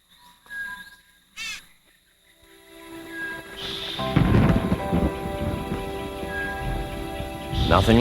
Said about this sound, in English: Nothing like a thunderstorm to rain on your parade.